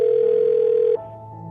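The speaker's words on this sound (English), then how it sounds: "I'm going to dial Alyssa's phone number right now" A telephone dial tone hums steadily and loudly while a phone number is dialed, then cuts off abruptly about one second in, leaving a lower, quieter line hum.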